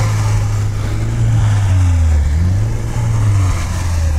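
A Lada Niva stuck in dense, wet snow revs its engine loudly and continuously, the drone rising and falling as it strains to pull free, with no talk over it.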